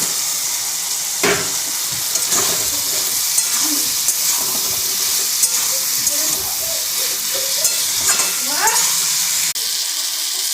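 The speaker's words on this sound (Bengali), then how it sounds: "এবার এটাতে চিকেনটা দিয়ে দিচ্ছি ঢেলে" Chicken goes into a hot pan with capsicum, tomato, onion, ginger and garlic for chilli chicken, making a loud, steady sizzle with scattered stirring knocks and brief sounds from a voice.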